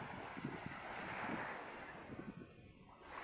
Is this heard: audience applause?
no